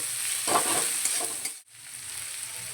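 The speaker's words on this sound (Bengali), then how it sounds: "পেঁয়াজটা একটু লাল লাল করে ভেজে নেব" Chopped onions frying in oil, a close steady hiss and crackle with a brief swell of stirring noise before a short break.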